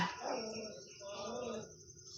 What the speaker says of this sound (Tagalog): Ingay ng aso.